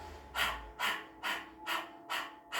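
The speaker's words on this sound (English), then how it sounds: "begin panting like a dog, really focusing on that exhale, pulling the tummy on the exhale" Rhythmic forceful panting like a dog with the tongue out: six sharp, breathy exhales at an even pace, close and fairly loud, with no talking.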